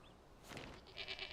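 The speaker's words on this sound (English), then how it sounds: "We got a Mr. Sheepy Sheep outside the window" A single short bleat from a sheep in the survival video game Enshrouded, heard faintly and on its own.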